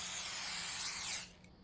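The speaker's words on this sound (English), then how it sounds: "it's just sleep spray" Sleep spray from a canister in The Convenience Store horror game: a single steady, loud hiss lasting over a second, then cutting off abruptly into quiet.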